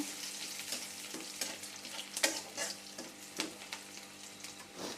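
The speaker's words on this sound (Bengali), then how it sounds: "পেঁয়াজ মরিচ লাল লাল হয়ে আসছে পেঁয়াজ আর জিরা এখন আমি দিয়ে দিচ্ছি ভাজা" Onion, chili and cumin frying in oil in a pan, giving a close, continuous crackling sizzle broken by repeated spatula stirs and scrapes at an uneven rhythm, with no voices.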